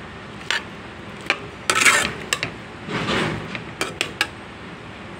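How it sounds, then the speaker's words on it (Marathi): Potato pieces being sautéed in a pan for a potato bhaji give off a soft sizzle. Scattered metallic clinks and scrapes of a spatula against the pan recur irregularly, a close and moderately quiet sound. "बटाट्याची फोडी आता तोपर्यंत मस्त परतून घेऊ।"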